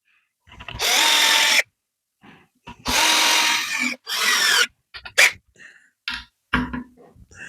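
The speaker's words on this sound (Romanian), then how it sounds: "am să iau niște șuruburi de 8 ori 100" An older Bosch Professional drill driving 8x100 screws, loud whining bursts of about a second each, then shorter stop-start pulses, with brief quiet gaps between runs.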